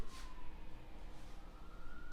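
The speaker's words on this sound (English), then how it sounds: "Can you guys hear the sirens?" Distant emergency sirens wail faintly across a quiet outdoor scene, a thin rising and falling tone that carries under light background noise with no voices.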